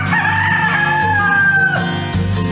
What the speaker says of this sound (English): A rooster makes it.